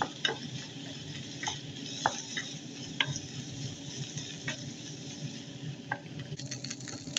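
Butter-melted corn kernels stirred in a hot pan, a steady close sizzle with scattered scraping ticks and taps of the spoon against the pan, no voices.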